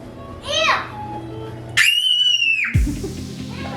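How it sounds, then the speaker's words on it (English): A child squeals, then lets out a long, piercing high-pitched shriek that cuts off abruptly, with a low background hum, in a hotel room at Disney World. "On the screaming child."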